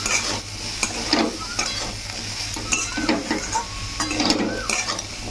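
Spoon stirring salt, turmeric and Kashmiri chilli powder into potatoes in a hot pan, steady scraping and clinking strokes over a soft sizzle, close and fairly loud.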